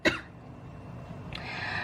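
A single short cough close to the microphone at the start, followed by quiet room noise and a faint breath.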